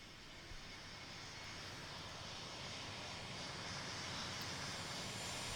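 A small general aviation airplane lands in the Tower Simulator 3 airport game, its engine a steady, broad drone that swells slightly as it continues without pause.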